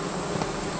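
Honey bees hum steadily at a horizontal hive, a dense continuous buzz close to the microphone with no voices over it.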